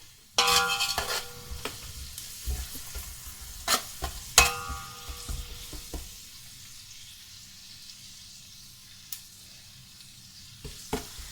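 Onions frying for a chicken curry are stirred in a pan, with sharp metallic scrapes and knocks over a soft sizzle that fades to near quiet, then a few last clinks.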